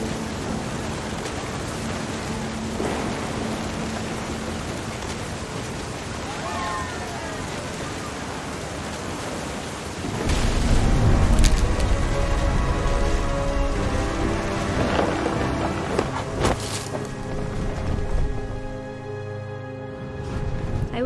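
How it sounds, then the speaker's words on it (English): Thunderstorm in the game What Remains of Edith Finch, a steady hiss of heavy rain with a deep rolling rumble of thunder swelling midway, a voice speaking over the storm. "Thunder sounded much too close and full of angry power."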